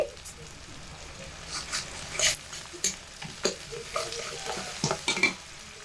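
Onion, garlic and cumin paste sautéing in a pan for a fish-head and cabbage curry, with soft, steady frying under intermittent scrapes and clacks of a spoon stirring against the pan.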